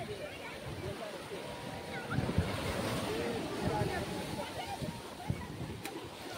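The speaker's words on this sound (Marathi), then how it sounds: "लाट अख्खी घेऊन जाते मागे." Sea waves wash ashore at Kanyakumari beach around sunset as a continuous broadband roar with surging swells and splashes, fairly close and steady.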